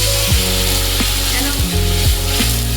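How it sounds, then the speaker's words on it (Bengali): Spices frying in a pan with a little water added while cooking lau chingri, bottle gourd with prawns, giving a steady close sizzle with a few brief scraping stirs and a low background hum. "জল দিয়ে এবার কষাবো"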